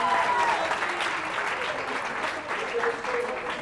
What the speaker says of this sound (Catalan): Aplaudim, no? Que són molts punts.